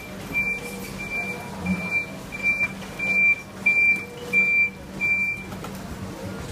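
A vehicle reverses through Tsukiji fish market in Tokyo, its reversing alarm giving about eight evenly spaced, loud, high beeps over a low engine rumble and market bustle.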